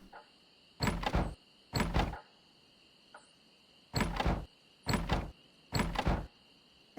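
Doors opening on Melee Island in the MT-32 talkie version of The Secret of Monkey Island: five short, hollow, clunky bursts at an uneven pace, each about half a second, with quiet gaps between them.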